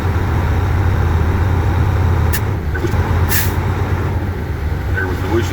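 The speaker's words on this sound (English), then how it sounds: "There was the whooshing sound. I hear my air compressor governor is working properly." A semi truck idling at about 1,000 RPM during a pre-trip inspection lets out a brief air compressor governor whoosh, two short hissing bursts over a steady, loud engine rumble.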